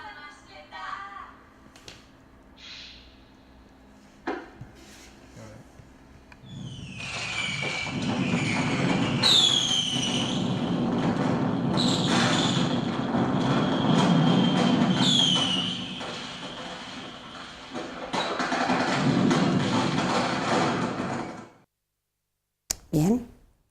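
A simulated Valencian mascletà built from Soundcool modules follows a few quiet seconds. It swells into a dense, continuous roar with whistling rockets rising over it and sharp bangs, then cuts off abruptly near the end.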